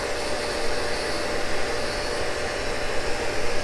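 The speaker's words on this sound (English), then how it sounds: "This is a tool and cutter grinder, and I'm grinding a tool." A Cincinnati tool and cutter grinder grinds a Morse taper, giving a steady, loud, continuous hissing whir that holds even throughout with no speech.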